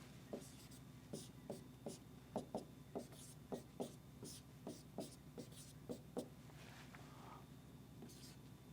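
Chalk or marker tapping and scraping across a board as a physics formula is written, a run of short, regular strokes close by with a quiet room behind and no talk.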